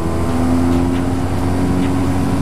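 A 2021 BMW R1250 GS Adventure motorcycle under way, its steady engine note humming with a clear tonal drone beneath constant rushing wind, loud and close.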